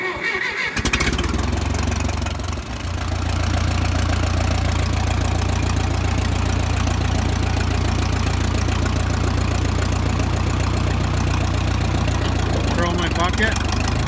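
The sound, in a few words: Minneapolis Moline Jetstar 3 tractor engine idling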